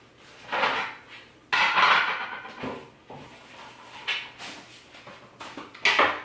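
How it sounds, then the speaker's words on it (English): Pots and pans clatter and clank in a home kitchen as a frying pan is pulled out, several loud metallic bursts with short pauses between them and no talking. "Let me go ahead and get my pan."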